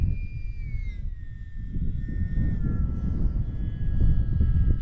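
An E-Flite Valiant 1.3M electric RC plane flies overhead at low throttle, its motor a thin steady whine that slowly drops in pitch over a rumbling wind-buffeted background.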